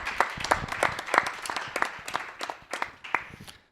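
A French television studio audience applauds, sharp individual claps in an irregular uneven rhythm, fairly close and moderately loud, tapering off at the end.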